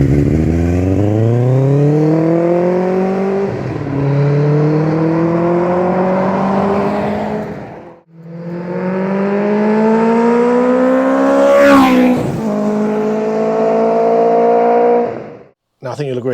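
A motorcycle engine revs hard and close, its pitch climbing in long sweeping pulls, with a short break between two sustained runs and a brief drop near the end.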